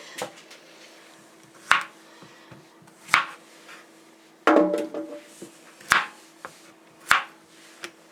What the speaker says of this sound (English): we have to top and tail our zucchini, and that just means to cut the top and the bottom off of it